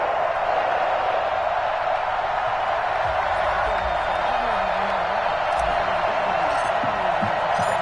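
Crowd noise fills a football stadium on Thanksgiving night as the Buffalo Bills and New England Patriots get set to play, recorded from the end zone. A steady, dense roar runs throughout, with scattered shouts rising from the mass.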